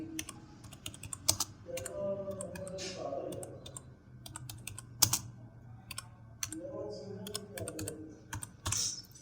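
HTML code typed on a computer keyboard: bursts of quick, close key clicks with short pauses, under someone talking intermittently.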